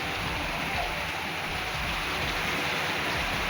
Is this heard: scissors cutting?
no